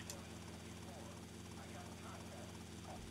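Helicopter rotor chop from a video game helipad, a steady low rhythmic whir that holds at even volume throughout with faint game sounds on top.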